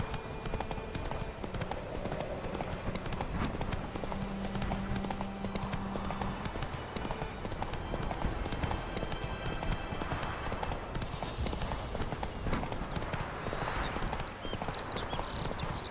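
Horse hooves clip-clopping steadily in The Witcher 3 video game, a continuous rhythmic galloping gait over ambient game sound, with a faint whinny and brief muffled voices near the end.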